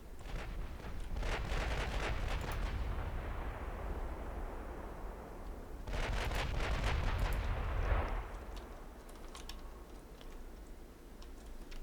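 Naval guns from warships fire in the Ultimate Admiral: Dreadnoughts game, with two loud rolling barrages of heavy, booming salvos separated by a pause, each rumbling out and fading into a lingering low roar.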